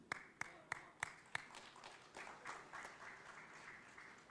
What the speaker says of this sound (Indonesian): Tepuk tangannya tidak ikhlas.